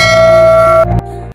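A bright notification bell ding with a sustained metallic ring, loud and close, ending in a short low thump before it cuts off.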